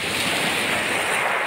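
Sea waves wash steadily onto the shore in a dense, continuous rush, heard up close with some wind buffeting the microphone.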